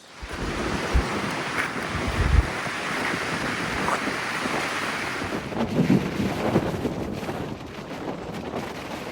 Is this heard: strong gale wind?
yes